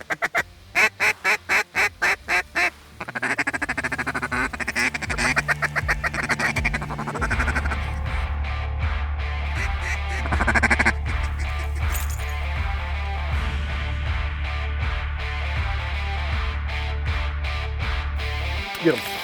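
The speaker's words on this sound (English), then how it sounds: "Yeah, ducks in front. Woody's coming straight in" Wood ducks quacking as they fly straight in, a burst of repeated calls at first followed by a steadier low rumble and scattered sounds, with hunters talking over it.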